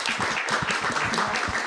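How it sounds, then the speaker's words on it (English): A live podcast audience claps in a short, fairly loud burst of applause, a dense wash of hands lasting under two seconds. "applause."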